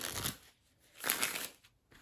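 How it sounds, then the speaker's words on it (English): Smooth plastic-coated playing cards get riffle-shuffled in two quick bursts of soft rapid flapping, close and quiet with a short pause between. "Shuffle cards."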